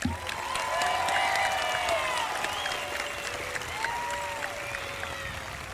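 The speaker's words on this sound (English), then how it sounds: "Give our Air Force JRTC, Viking Band, and Viking Singers one more round of applause." A crowd at a high school graduation ceremony gives sustained, full applause for an Air Force JRTC band and singers, with a few scattered cheers, holding steady before slowly easing off.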